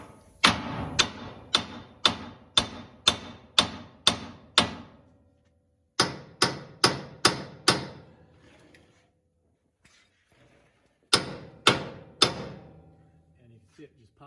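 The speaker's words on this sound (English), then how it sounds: "we're going to whack this with a hammer to slightly ovalize that joint." Hammer whacking the spindle of a 2007–2021 Toyota Tundra to free the upper ball joint: sharp metallic blows in fast, evenly spaced runs of eight, then five, then three, each ringing briefly, with pauses between bursts.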